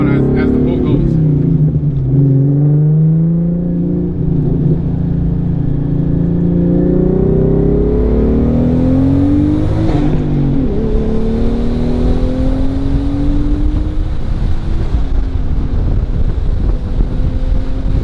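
A tuned twin-turbo 3.7L V6 Mustang strains through a dyno pull, its loud engine note rising steadily in pitch over a constant roar, with voices talking over it.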